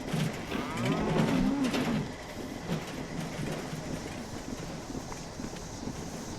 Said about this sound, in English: Gotta get this cow.